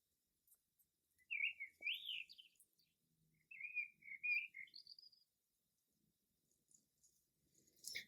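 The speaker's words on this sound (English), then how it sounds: "The sun is rising over the garden, and all the birds are starting to sing." Several short, high bird chirps and trills at sunrise in a garden, clear against an otherwise quiet background, with brief pauses between phrases.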